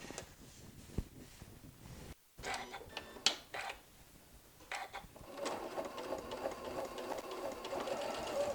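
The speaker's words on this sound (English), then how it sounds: "I'm just going to top stitch all the way around as if when we were sewing it all together" A sewing machine fitted with a blind hem stitch foot top stitches around the edge of an apron, running in quiet mechanical bursts with brief stops, then settling into a steady whirring run near the end.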